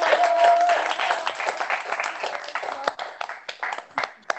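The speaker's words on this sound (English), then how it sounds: "let's give him an applause" An audience at a talk on soil strategy for development claps to welcome a speaker, starting as a dense burst and thinning into scattered individual claps, with a voice briefly audible at the start.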